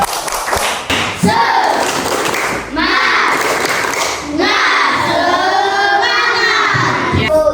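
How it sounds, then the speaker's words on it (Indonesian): Schoolchildren in a classroom do a rhythmic spirit clap, shouting and chanting loudly together in bursts over steady clapping and thumps. "Tepuk semangat."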